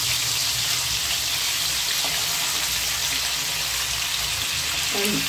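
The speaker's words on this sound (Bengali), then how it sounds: "মাছগুলোকে পুরো আমি ভাজবো না, সাজিয়ে দিয়ে সঙ্গে সঙ্গে এটাকে একটু এপিট করে উল্টে নিচ্ছি প্রত্যেকটা মাছকে" Pieces of hilsa fish sizzle in hot oil in a pan while being laid in and flipped, a steady dense frying hiss with a few faint clinks near the end.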